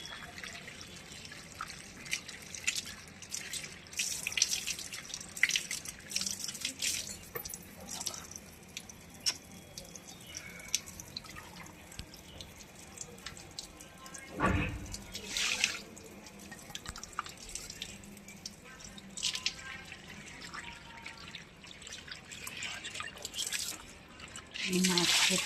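Fish being rinsed under running water in a home kitchen, with a steady trickle and drips over a sink alongside a speaking voice throughout.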